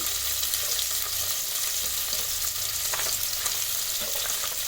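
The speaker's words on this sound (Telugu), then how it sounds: "దాల్చిన చెక్క వేస్తున్నానండి" A cinnamon stick hits hot oil while cooking mutton curry and bhagara rice, raising a steady, dense sizzle and frying hiss that fills the whole stretch, close and even with faint stirring.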